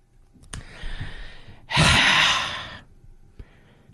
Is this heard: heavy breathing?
yes